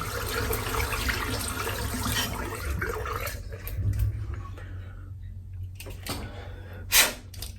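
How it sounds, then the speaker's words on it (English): Water from a tap runs steadily while a safety razor is rinsed clean at a bathroom sink, a continuous close splash with a brief clatter near the end. "let's just rinse out the razor. Just give it a quick clean."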